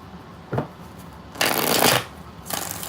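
Tarot cards being shuffled during a reading: three close riffling bursts, a short one, then a longer sustained shuffle, then another, crisp and alone with no talk.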